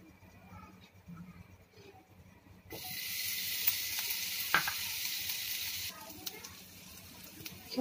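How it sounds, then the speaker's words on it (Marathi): Khoa milk solids roasting in ghee in a frying pan, a loud hissing sizzle that swells up partway through, then drops back down, with quiet stretches before and after. "खवा भाजण्यासाठी आपण आधी तूप फ्राय पॅनमध्ये तूप घालायचं आपल्याला थोडंसं, जेणेकरून खवा चिटकणार नाही खाली"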